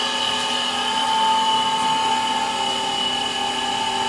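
A three-phase motor on an inverter trainer runs forward at steady speed, a constant close whine with stable tones and no speech.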